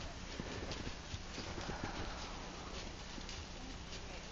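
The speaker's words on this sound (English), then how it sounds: "He's also being ridden in Dr. Cook's bitless bridle." Hooves of a quarter horse under saddle, wearing a bitless bridle, in a steady clip-clop that runs through the whole stretch against a constant noisy background.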